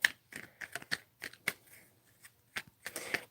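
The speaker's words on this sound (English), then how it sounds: "So I'm just going to shuffle these." A deck of tarot cards is shuffled up close. Quick, uneven riffles and soft slaps of card stock come in short bursts over a quiet background.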